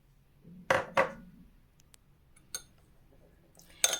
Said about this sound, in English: I'll mix everything together.